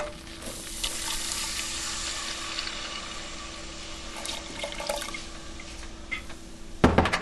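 A hot roux sizzles steadily in a pan as about two cups of milk go in, with a constant frying hiss and a louder splashing burst near the end; no one speaks.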